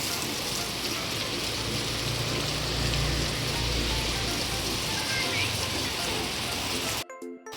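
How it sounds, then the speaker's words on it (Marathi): Steady rain falls on surfaces at the start of the monsoon, a dense, close patter of drops that continues evenly before cutting off abruptly near the end. "पावसाला आजच म्हणजे सुरुवात झाली आहे"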